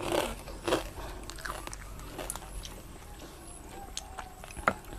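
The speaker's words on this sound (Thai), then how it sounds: "แคบหมูไม่แข็งนะลูกกรอบ" Close, crisp crunching bites and chewing of crispy pork rinds, several sharp cracks spread irregularly over five seconds, fairly quiet with soft mouth noises between.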